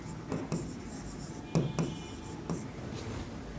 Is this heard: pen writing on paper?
yes